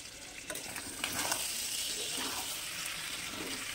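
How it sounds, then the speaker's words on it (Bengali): Beef liver bhuna frying in an uncovered pan, a soft continuous sizzle broken by a few stirring scrapes, fairly quiet and close with no talking. "এবার ঢাকনাটা খুলে নাড়াচাড়া করে নেব"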